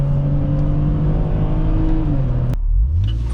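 A 2006 BMW X3 3.0i accelerates, its engine note climbing steadily as heard from inside the cabin, loud and close, before dropping abruptly at a gear change.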